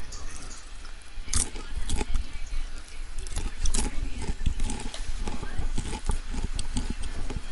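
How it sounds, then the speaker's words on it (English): Popcorn is crunched and chewed close to the mic, giving loud, irregular crackling bites over steady background noise, with voices talking at the same time. "That's me crunching on popcorn."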